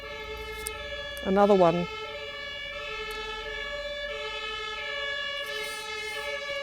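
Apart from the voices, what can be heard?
ambulance sirens passing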